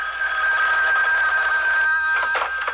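A telephone bell rings loudly and close in a continuous metallic trill with a steady pitch, sounding for nearly three seconds within an old radio drama.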